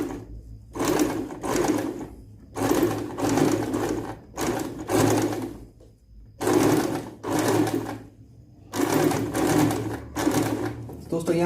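A sewing machine stitches a dhoti for a Ganesh idol outfit in repeated bursts of about a second each, separated by short pauses. Someone talks over the stitching now and then.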